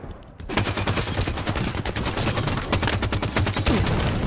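Gunfire in Halo 5 multiplayer, a video game: loud sustained automatic weapon fire in rapid bursts, with dense overlapping shots filling the scene after a brief quiet start.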